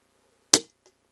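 A single sharp shot from a BSA R12 XLX Pro air rifle with a laminate wood stock, loud and close with a quick decaying crack, followed by a faint distant pellet impact.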